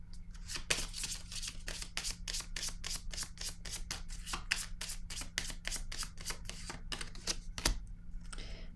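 Cards are shuffled for a card reading in a steady run of soft, quick riffling flicks, close and fairly quiet, over a low constant hum. No one speaks.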